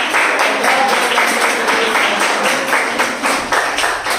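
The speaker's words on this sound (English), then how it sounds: "let's give ourselves a resounding applause" A physical education class applauds, and a dense, even patter of many hands clapping fills a room for several seconds at steady volume with a faint pulsing rhythm.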